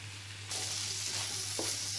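Boiled macaroni being stirred into sizzling masala in a hot pan, with a steady loud frying hiss that swells as the pasta goes in and a brief scrape of the spoon, close up with no talking.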